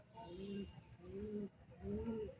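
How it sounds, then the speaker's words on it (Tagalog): Pigeons cooing at a bird release in San Simon, Pampanga: three soft, low, rolling coos in a row, fairly faint and distant over quiet background noise. "Ito na yung iba mga kaibon."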